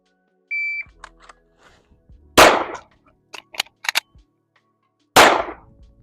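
Pistol shots fired during a timed shooting drill on a range: two loud, sharp reports about three seconds apart, preceded by a shot-timer beep, with faint clicks and quieter bursts between them and no talking.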